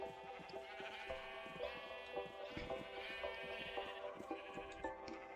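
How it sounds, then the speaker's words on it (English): Video-game sheep bleat repeatedly in a soft, continuous chorus of overlapping calls, fairly faint, with no talk over them. "So I see the sheep are coming along."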